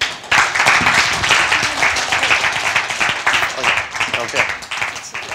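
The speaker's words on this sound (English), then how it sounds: "just give them a round of applause" A round of applause for panel speakers at a conference session, with clapping that starts suddenly, stays fairly loud, then thins out, mixed with talking.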